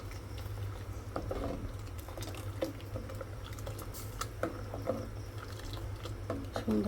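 Liquid comes to a boil in a pot, with soft bubbling, popping and patter over a low background hum, as a voice talks faintly nearby.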